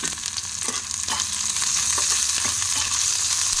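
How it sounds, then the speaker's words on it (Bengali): Finely chopped capsicum sizzles in hot oil with browned onions in a pan, a steady close crackle of frying broken by scrapes and taps as a spoon stirs it, with no talking. "ক্যাপসিকামটাকে দিয়ে আমি আবারও এর সঙ্গে খুব ভালো করে নেড়ে চেড়ে একবার মিশিয়ে নেব"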